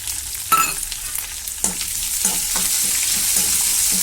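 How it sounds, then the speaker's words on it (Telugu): Thinly sliced onions fry in oil for a lentil dish with gongura leaves, a steady close sizzle broken by several sharp scraping stir strokes, with no talking. "ఇది కూడా బాగా కొంచెము బ్రౌన్ కలర్లో వచ్చేంత వరకు వేగించాలండి"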